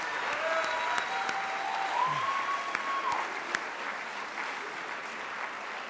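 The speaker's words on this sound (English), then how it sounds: "So give them a round of applause for playing all those instruments." A band spring concert audience applauds the percussion students, a steady wash of many hands heard from a distance at modest level. Faint sustained whistling tones drift over it, and no one speaks.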